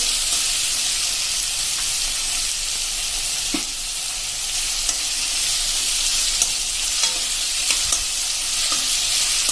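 Ridge gourd and chilli sambharo with mustard and fenugreek seeds and spices stirred in hot oil, a continuous close sizzle broken by scattered scraping clicks of the spoon against the pan, with no voices.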